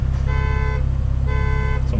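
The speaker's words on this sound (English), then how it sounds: "someone's alarm's going off." A car alarm blares nearby in two repeated tonal pulses over a steady low engine rumble from a running exhaust.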